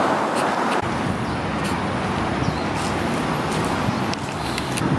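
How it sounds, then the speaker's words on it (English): Dense city traffic from many cars rolls past below a park, a loud, continuous roar with broadband road noise and faint passing swells, no voices. "There's a lot of traffic. Super noisy."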